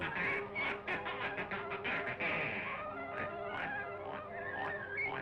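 Honking and quacking goose calls from a played video, repeated in quick bursts over dense layered background sound, fairly loud and continuous with no talking.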